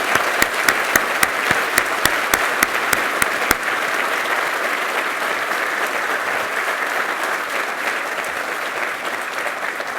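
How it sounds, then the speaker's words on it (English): Sustained audience applause honoring Nancy Reagan's life at President Reagan's 106th birthday celebration, dense clapping from a large crowd with a few sharp, close claps in the first seconds, steady and loud throughout. "May I ask for a round of applause in celebration of her extraordinary life and"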